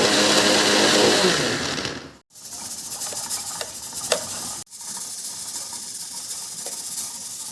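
A mixer grinder grinds raw mango chutney with green chillies in loud close bursts of high whirring, stopping briefly twice between runs, with no talking.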